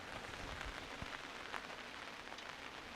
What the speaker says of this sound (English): Damn, it is freaking raining again.